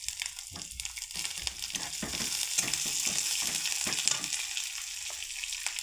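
Fresh coriander frying in a little oil in a pan crackles and sizzles steadily, with brief stirring scrapes and taps breaking through.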